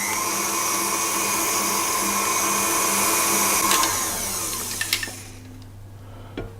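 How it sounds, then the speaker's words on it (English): Butter cookie dough ingredients mixed with an electric whisk or mixer: a steady, loud motor whir with a high-pitched buzz that runs continuously, then winds down and stops, followed by a couple of soft knocks. "So we'll just whisk this together"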